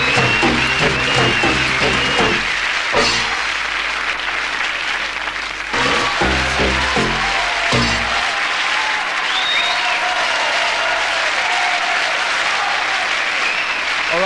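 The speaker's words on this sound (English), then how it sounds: "They're cheering the adverts this week." A large studio audience claps and cheers loudly and steadily, a dense continuous roar of applause that carries on without a break, with no talk over it, at a late-night live comedy show.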